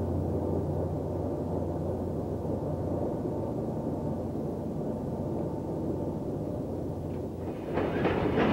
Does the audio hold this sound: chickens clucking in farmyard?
no